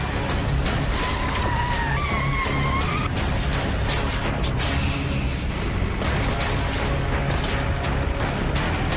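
A car driven fast, with tyres skidding and squealing, roars loudly and continuously alongside engine noise and rumbling.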